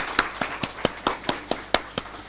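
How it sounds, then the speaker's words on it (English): Audience applause at the inaugural session of a climate change and resilience development event, heard as about ten evenly spaced, fairly close claps, as from a single person or a small group. "Please welcome him with a huge round of applause."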